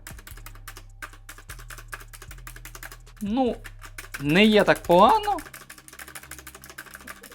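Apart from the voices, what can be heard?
AULA F3287 keyboard space bar stabilizer, clicky switches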